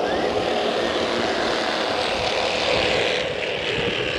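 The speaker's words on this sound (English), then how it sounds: "Racing all through turns number one and two." Bandolero race cars run at the Las Vegas Motor Speedway Bullring, their small engines forming a steady, loud buzzing drone that holds for several seconds without let-up.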